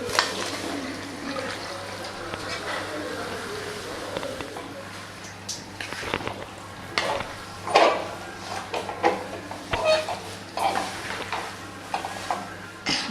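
Chicken pieces are stirred and fried in a pan for a chicken gravy, with soft sizzling under irregular scraping and stirring bursts that grow busier toward the end.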